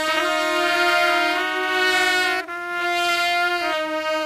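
Sustained saxophone horn riffs from the outro of a song, two bright held phrases trading back and forth in call and response, loud and alone, with a brief break in the middle.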